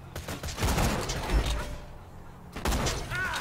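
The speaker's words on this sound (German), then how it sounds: "Dann mach ich mal gleich mit Sniper hier." Sniper rifle fire in the Borderlands 2 video game, a few sharp reports with mechanical clatter within busy game noise, with a quieter lull before another burst near the end.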